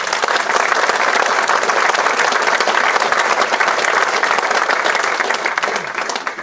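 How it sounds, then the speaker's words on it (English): Loud, sustained applause from a large crowd of volunteers at Glentoran Football Club's Queen's Award for Voluntary Service event, dense and steady, tapering off slightly at the end. "the volunteers give themselves, a very good round of applause"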